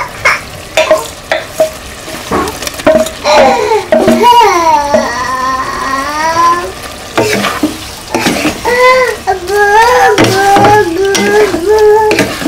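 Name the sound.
stirring fish, onion and garlic into Malabar spinach curry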